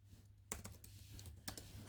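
Keystrokes on a computer keyboard while entering a Windows disk conversion command, a few sparse close clicks with a steady low hum underneath.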